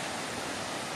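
A river flows past a Hachiman shrine in the countryside, a steady, full rush of water that stays even and close throughout, with no voices.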